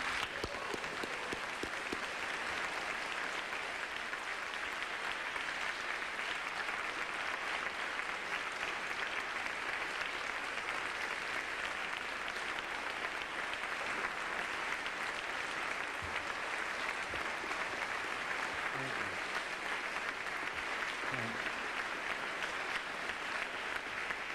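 A college lecture audience at Carleton College applauds steadily to welcome historian Howard Zinn, a dense, even clapping from a large crowd that holds for the whole stretch without pause.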